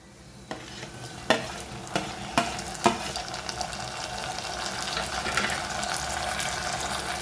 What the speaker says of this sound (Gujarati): હવે નાખશું કેપ્સિકમ, મરચું, ટમેટું,